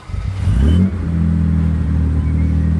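A classic SS100 sports car engine fires up with a loud burst, then settles into a steady, deep growling idle, close by and alone.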